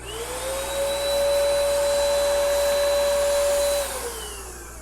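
A DipYourCar paint sprayer applies Metallic Shadow Blue Plasti Dip in a one-second trigger release. The close motor whine ramps up, holds steady for several seconds, then winds back down.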